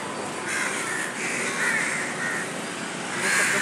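Crows cawing outdoors, a few harsh caws rising over a steady background hiss, moderately distant and fairly faint.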